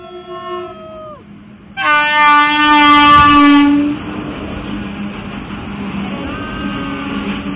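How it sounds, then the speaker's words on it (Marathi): A train horn blares loudly and close near a waterfall at Khopoli, Maharashtra, then a rushing train rumbles past with a steady roar, followed by a fainter second horn. "आणि आता ट्रेन आली आपली."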